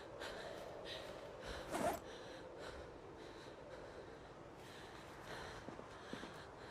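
A survival-game character breathes heavily during a long Project Zomboid-style run. It gives soft, repeated breaths and snorts at a low level, with one louder gasp near the middle and faint background noise throughout.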